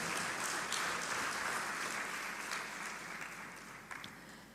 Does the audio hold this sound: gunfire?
no